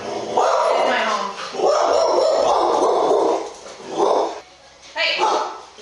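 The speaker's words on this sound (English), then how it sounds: "Are my dogs frightening you?" Dogs bark and whimper in a home during a tense confrontation, several loud close bursts of yipping and whining separated by short gaps, with people talking over them.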